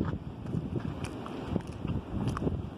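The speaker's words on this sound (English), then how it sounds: "We got like 60 mile an hour wind coming through the valley." Strong wind gusts through a valley beside a large cornfield in the Berkshires, buffeting the microphone with a constant rough rumble and scattered sharp flutters.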